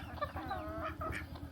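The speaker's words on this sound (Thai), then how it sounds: "นี่เนาะไก่" Chickens cluck quietly and repeatedly at a rural village in Saravan province, Laos, with short irregular calls over low background rumble.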